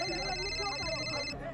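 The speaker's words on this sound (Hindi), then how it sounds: "सूरज को अपने फोन की रिंग सुनाई नहीं दी।" A mobile phone rings amid a noisy press crowd, its tonal ringtone sustained and steady before cutting off just before the end, mixed with a murmuring background.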